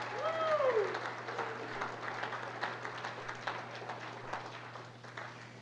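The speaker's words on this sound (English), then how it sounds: "please just give Kirsten, Angie, and Megan a big round of applause for everything they do all year round?" Scattered applause from a crowd, moderate and fading gradually, with a brief voice at the start.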